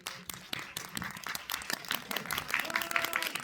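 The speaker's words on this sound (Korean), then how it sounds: "여러분들도 박수 한번" Audience applause at a Q&A screening event for the film 'Sister' in a CGV cinema hall in Yongsan, a dense patter of claps lasting a few seconds at moderate level, with scattered louder hand strikes and no speech.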